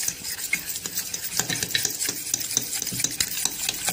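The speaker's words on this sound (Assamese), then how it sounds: "যিমান পাৰি সেইখিনি সিমানেই ফেটিব লাগে কেক বনালে যিমানেই ফেকা হয় তিমানেই কেকটো ভাল হয়" Cake batter for a small cup cake is whisked vigorously by hand in a bowl, making rapid rhythmic scraping and tapping strokes that stay close and fairly loud without any talk.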